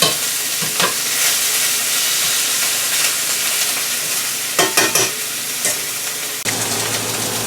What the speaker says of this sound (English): So I'm going to go ahead and add my butter in now.